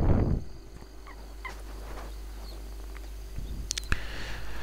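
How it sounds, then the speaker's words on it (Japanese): A bird calls a few times near an island harbor in the Izu Islands of Tokyo, short faint chirps over a low steady engine-like hum, with a sharper burst of calls toward the end. "鳥がいます"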